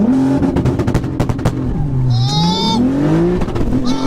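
A 1000 hp turbocharged Nissan Skyline R32 with a sequential gearbox revs hard and climbs through the gears with a rising whine, loud and close, punctuated by sharp popping bursts.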